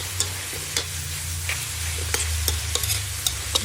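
Food sautéing in a pan sizzles steadily while a utensil scrapes and taps against the pan in irregular strokes, close by, with a low hum running underneath.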